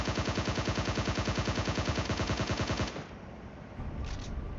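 A SCAR-L rifle in PUBG Mobile fires a loud, rapid automatic burst of evenly spaced shots for about three seconds, then stops abruptly, leaving quieter game ambience.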